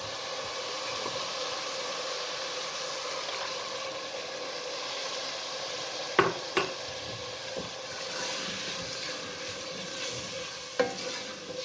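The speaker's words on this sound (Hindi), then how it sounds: "पाँच मिनट दही को भून के फिर आगे चलते हैं।" Masala gravy with yogurt fries in a pan while being stirred, a continuous close hissing sizzle with occasional scraping knocks of a spoon.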